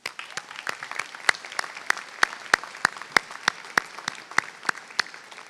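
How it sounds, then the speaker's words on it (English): Audience at the 2023 Keene High School commencement ceremony applauds the graduates' families, a steady wash of clapping with sharp individual claps standing out, moderately loud and continuous throughout. "let's give your families a round of applause"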